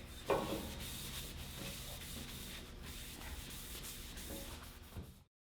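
Rag or shop towel rubbed over a metal coffee table frame to clean off grease and particulates before clear coat, a steady close scrubbing swish with a sharp rub near the start, alone without talk.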